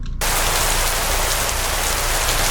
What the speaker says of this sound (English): We were about halfway through when it started raining.